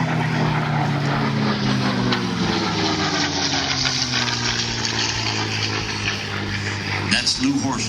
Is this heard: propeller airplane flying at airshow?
yes